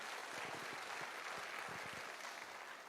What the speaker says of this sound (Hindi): एक बार जबरदस्त तालियां तो बनती हैं सर